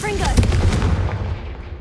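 Confringo blasting spell from the Hogwarts Legacy video game: a dense burst of explosive, gunfire-like booms with a sharp crack near the start, loud and close, followed by rumbling decay and faint sparkly tones.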